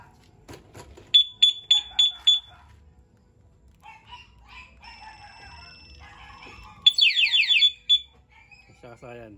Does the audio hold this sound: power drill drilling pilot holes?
no